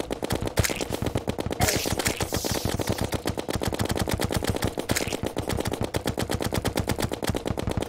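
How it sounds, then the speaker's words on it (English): Rapid automatic gunfire from the video game Terreroin rattles almost continuously in dense, fast, evenly spaced bursts, loud and steady throughout, with no talk over it. "That was a good set of shots right there."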